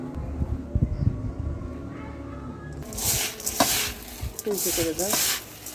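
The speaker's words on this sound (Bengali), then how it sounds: "ভালো করে চটকে চটকে মেখে নিচ্ছি।" Onion, mustard oil and salt are squeezed and mixed into food by hand; after a quiet start come close, wet squelching and rustling bursts in an uneven rhythm.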